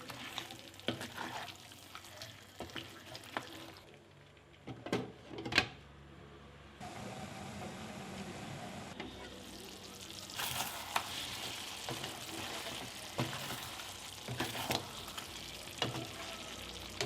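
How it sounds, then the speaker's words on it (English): Goat head with cumin paste being stirred in a cooking pot, a soft sizzle and frying crackle under scattered scraping and clanking stir strokes, fairly quiet and uneven. "Add your cumin paste, stir, cover and cook it further for 20 minutes."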